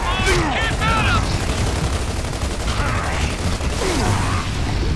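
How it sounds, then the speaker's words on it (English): Gears of War 2 firefight, with steady rapid gunfire and mechanical clatter running nonstop at high volume and voices mixed in. "Who's shooting me and why?"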